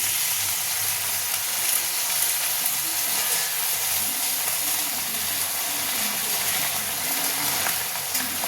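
Chili chicken sizzles steadily in a pan as soy sauce goes in, a constant loud hiss of frying with faint low rumbles underneath and no speech.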